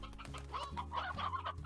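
Hens cluck in the Slime Rancher video game, a close, busy mix of short clucks and warbling calls from several birds over soft background music.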